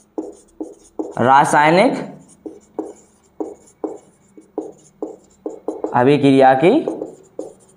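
Chalk or marker writing on a board during a Class 10 chemistry lesson, heard as a run of short, regular scratchy strokes spaced through the clip, with a voice speaking in Hindi at two points.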